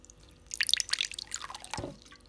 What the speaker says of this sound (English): Pouring with this can really makes loud noises.